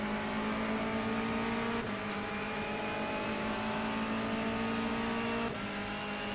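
Honda Civic touring race car in rFactor 2 during a race, its engine holding a loud steady high-revving drone with two brief dips at gear changes, with no talking over it.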